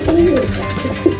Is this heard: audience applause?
no